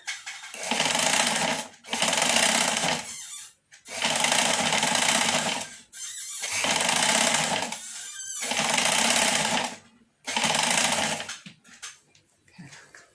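A sewing machine stitches fabric with elastic in six loud, steady bursts of about two seconds each, separated by short pauses.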